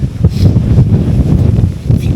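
Strong wind buffets the microphone on a blustery Christmas Eve walk along the River Wear, a loud continuous low rumble with gusty swells throughout and no talking.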